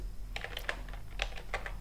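A Linux terminal command is typed on a computer keyboard: a quick run of soft, close key clicks, fairly quiet over a steady background hum, with no talking.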